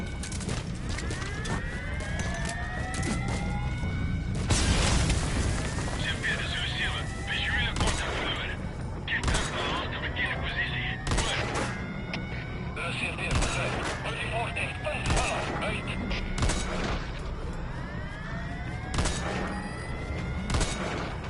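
Repeated gunfire bursts in Metal Gear Solid V: The Phantom Pain, sharp shots spaced every second or two over a steady battlefield bed, with voices talking throughout.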